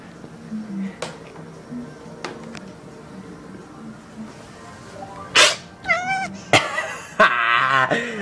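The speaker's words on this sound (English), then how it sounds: "the final short video is of a kid scaring his cat" A startled cat yowls and meows in several drawn-out cries, interrupted by sharp thumps and bursts of noise as a kid frightens it, with faint voices in the background.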